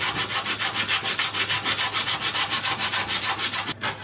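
A round #1 handplane iron is rubbed back and forth on a sharpening surface while its back is flattened. The steady, close, gritty strokes come in an even rhythm, with a short pause near the end and no speech.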